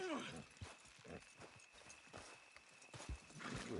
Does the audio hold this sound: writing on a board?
no